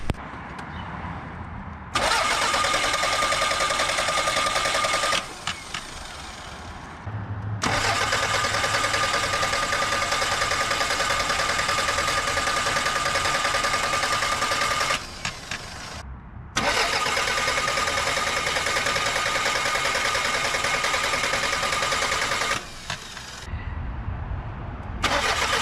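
A 3S-FE engine in a 35-year-old Toyota Camry cranks over during a compression test, with long loud bursts of starter whirring broken by short pauses and no speech.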